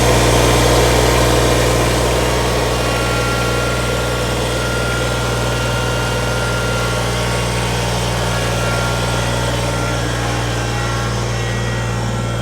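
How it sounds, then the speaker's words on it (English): A Kubota BX25D compact tractor engine idles steadily after a fuel pump replacement, a loud, even diesel drone with a deep low hum that holds constant for the whole stretch, with no talking. "replacement of this fuel pump on this tractor"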